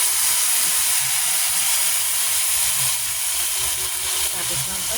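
Fish sauce hitting a hot pan of cooking chicken sinampalukan, giving a loud, steady sizzling hiss that fills the whole moment close up, with a voice speaking faintly underneath.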